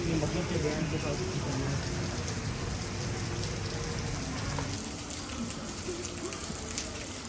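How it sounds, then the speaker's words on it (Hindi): Heavy rain pours steadily across an open-air outlet mall in Gotemba, Japan, a dense continuous hiss that eases slightly near the end, with faint voices underneath. "अभी जापान में इधर बारिश बहुत ज़्यादा हो गई है"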